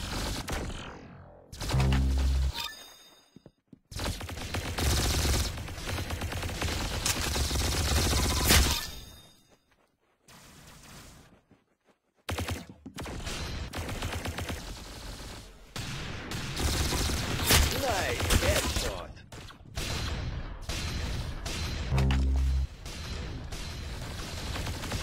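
Gunfire in a shooting video game, with sustained loud bursts of automatic fire and dense volleys that break off into brief silences before starting again, heard alone without talk.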